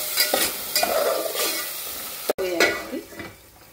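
Masala with tomato sautéed and stirred in a pan for a Maharashtrian stuffed-brinjal rice dish, a close, steady sizzle broken by several scraping stirs and spoon clinks against the pan.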